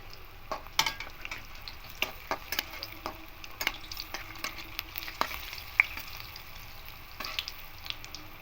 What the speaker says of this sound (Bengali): কড়াইয়ে তেল দিয়ে তেলটা গরম হয়ে গেছে এবার একে একে বড়াগুলো দিয়ে দেবো